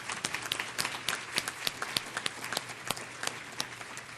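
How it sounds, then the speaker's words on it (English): A meeting audience at a health policy summit applauds the staff with moderate, fairly sparse clapping. Individual sharp claps stand out above a softer background patter. "Can we give them a round of applause?"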